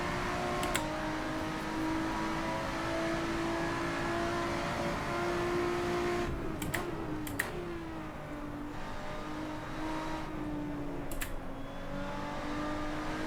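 A race car engine in Assetto Corsa, a steady loud drone with shifting pitch and brief clicks of gear changes, while the car is pushed through a corner at speed.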